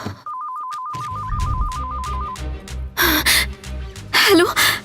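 A telephone rings with a rapid warbling electronic tone for about two seconds, loud and close. Tense dramatic music follows, along with sharp gasps.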